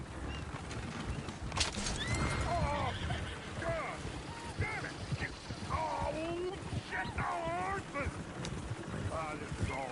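Horses whinny repeatedly in Red Dead Redemption 2 over a busy background of hooves and voices, the neighs rising and falling in several distinct bursts.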